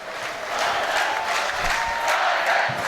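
The home crowd at a Leicester Riders basketball championship game stands applauding and cheering their winning team, a loud, sustained wash of clapping and shouts filling the arena.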